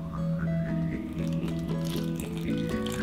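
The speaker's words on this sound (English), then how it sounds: "I'm going to pour a little bit of this red wine" Red wine poured into a cup, a continuous liquid trickle and slosh lasting a few seconds over a sustained musical backdrop.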